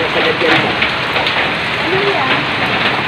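Heavy rain pours steadily onto surfaces during a flood, a dense continuous hiss with no break, while voices are faintly present underneath.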